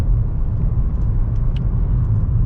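A 2022 Nissan Kicks SV rolls over railroad tracks with a low, steady road rumble, a few faint thumps and clunks passing underneath.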